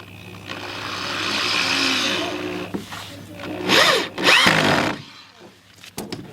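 A corded power drill drives into wood while building a shed ramp, a steady whirring run lasting a couple of seconds followed by shorter bursts, close and fairly loud with workshop noise around it.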